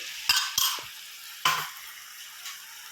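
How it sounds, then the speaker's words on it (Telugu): Ginger-garlic paste spooned into a hot pan for boti curry: three sharp spoon clanks over a steady frying sizzle that hisses on alone afterward, with no talking. "ఇందులో అల్లం ఎల్లిగడ్డ పేస్ట్ పెద్ద స్పూన్తో ఒక 3 స్పూన్స్ వేస్తున్నానండి"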